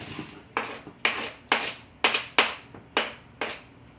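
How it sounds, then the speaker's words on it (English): A knife's blunt spine scrapes chopped purple onion across a cutting board in eight sharp, evenly spaced strokes, close and loud with no talk. "you heard me scraping my board"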